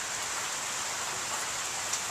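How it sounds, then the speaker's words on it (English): Heavy rain falls in Southern California with a dense, even hiss of drops striking surfaces, steady and unbroken throughout without any voices. "It's been raining like crazy for the last couple days."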